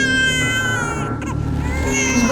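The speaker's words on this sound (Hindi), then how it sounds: "बच्चे के रोने की आवाज।" An infant cries with a thin, wavering wail that rises and breaks, heard alone and fairly close in a quiet indoor space.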